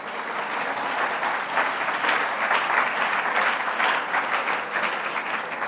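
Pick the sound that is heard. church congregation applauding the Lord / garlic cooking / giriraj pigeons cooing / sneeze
church congregation applauding the Lord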